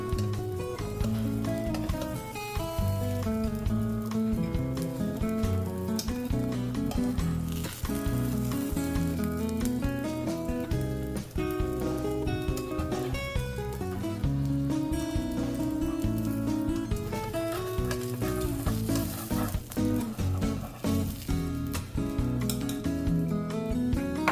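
Cheese-stuffed egg rolls fry in a pan, giving a steady, close crackling sizzle that runs unbroken through the whole stretch, with a tonal musical bed beneath it.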